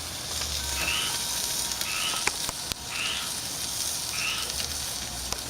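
A ribeye steak searing and charring over a barbecue grill gives a loud, continuous hiss and crackle that stays even throughout, close by, with a few faint pops and clicks and no voices over it.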